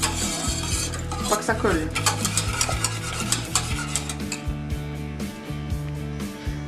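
Chopped frozen spinach with butter is stirred in a pan, with a steady sizzle under repeated scraping and clinking of a utensil against the pan. A voice speaks briefly.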